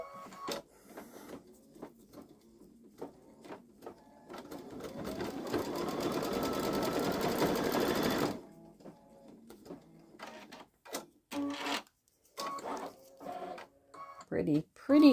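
A Babylock Solaris Vision embroidery machine stitches a design in a steady whirring run of about four seconds, with a person talking before and after it.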